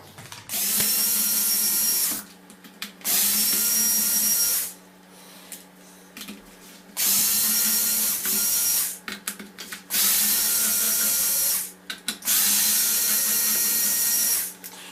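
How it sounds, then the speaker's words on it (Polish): Handheld cordless screwdriver backing out the housing screws of a Sparky BR 12E battery pack, several loud close whirring bursts of a few seconds each separated by short pauses and small clicks. "Przy pomocy wkrętarki ręcznej wykręcę wkręty obudowy."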